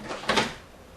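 A door fitted with a deadbolt swings shut and its latch catches, giving a brief, close clack with a short rattle, then quiet room tone.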